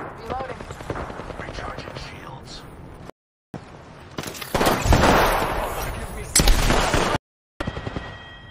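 Gunfire from the video game PUBG crackles in rapid bursts, loud machine-gun volleys mixed with single shots, while players talk over it, with brief silent gaps between sections.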